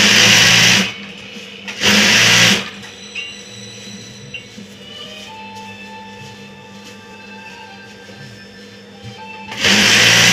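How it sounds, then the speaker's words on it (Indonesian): A sewing machine stitches a foam-layered bedspread ruffle, running in a steady hum for about seven seconds between two short loud bursts of noise at the start, middle and end. "sekarang kita akan jahit yang tadi yang belum dijahit"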